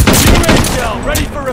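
Marksman rifle fire from an M1916 in a first-person shooter game, several close sharp shots in quick succession layered over a busy, dense game mix.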